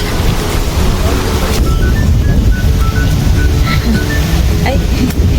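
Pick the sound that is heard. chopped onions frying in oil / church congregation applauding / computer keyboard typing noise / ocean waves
ocean waves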